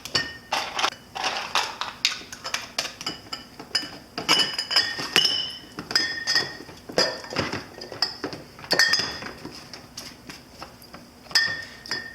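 Screw caps are twisted tight onto glass kombucha bottles, producing a steady run of close, bright clinks, ticks and glassy taps in irregular clusters, with no talking.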